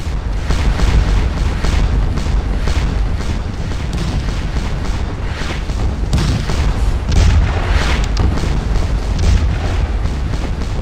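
Cannon and artillery fire in the Napoleonic battle game Scourge of War: Waterloo booms repeatedly near the Sunken Road, deep rumbling blasts overlapping into a continuous loud barrage.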